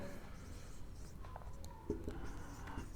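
A teacher writes on a board during a maths lesson, making faint, scattered scratchy strokes over a quiet room hum.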